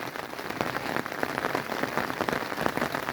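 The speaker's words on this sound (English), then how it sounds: "It's raining." Steady rain falls on a surface outdoors, a dense continuous patter of drops that stays close and even throughout with no voices.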